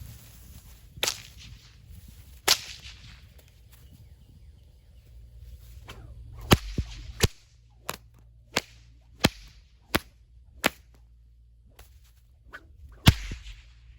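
Sharp, loud whip cracks ring out one after another, sparse at first then in a steady rhythm, with rustling and swishing between them.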